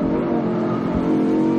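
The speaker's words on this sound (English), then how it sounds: "ultimately it's that V10 engine that makes it such a good thing" A 2016 Audi R8 with a V10 engine revs steadily and loudly close by, its dense engine note held throughout with a slight swell near the end.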